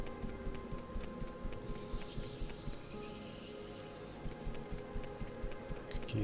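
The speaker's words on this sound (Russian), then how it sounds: "Опять дождь, ты что?" Rain falls in the Morrowind Tamriel Rebuilt game world, a soft, steady patter of drops with a faint, even background wash, quiet and without speech.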